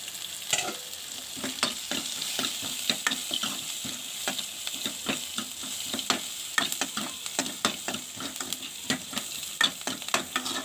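Shallots sizzle steadily in a hot pan while a utensil stirs and scrapes in a quick, uneven rhythm, close and fairly loud.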